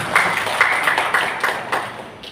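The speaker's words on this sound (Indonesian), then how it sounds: "Kasih tepuk tangan sekali lagi buat Ibu Imara" Scattered, uneven hand claps from an audience at a lively Brich product presentation event in Kuningan, West Java. A handful of distinct claps ring out at a moderate level, without talk.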